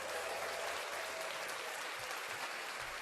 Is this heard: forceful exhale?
no